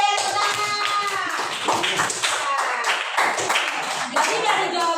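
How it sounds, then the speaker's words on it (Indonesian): A classroom of students claps together in a dense, steady burst of hand claps lasting several seconds, with voices mixed into the noise. "Tepuk tangan."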